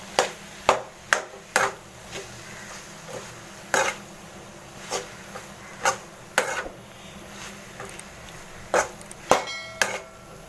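Sliced mushrooms are stirred into a thick masala gravy in a pan, a spoon knocking and scraping against the metal in a dozen or so irregular, sharp taps.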